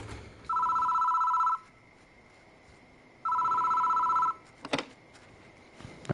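A payphone rings in a phone booth in the horror game Spirit Hunter: Death Mark, two long electronic trilling rings separated by a pause, then a couple of brief clicks, loud and alone.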